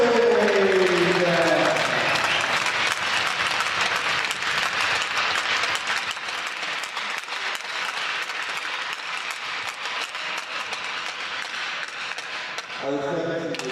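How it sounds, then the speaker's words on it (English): A crowd applauds steadily for several seconds at a college senior night game, dense clapping from a large audience, fading near the end as a voice begins speaking. "Please give a round of applause."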